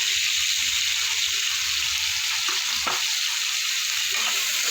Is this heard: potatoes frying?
yes